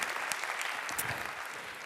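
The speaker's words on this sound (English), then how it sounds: "Let's give everybody a round of applause." Conference audience applauding continuously for a couple of seconds, a dense, steady clatter of many hands filling a hall, fairly loud and even throughout with no talk over it.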